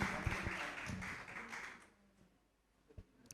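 Applause from a studio audience at a children's holiday quiz competition's elimination round, a dense burst of clapping that thins out and fades over about two seconds, followed by a few scattered claps.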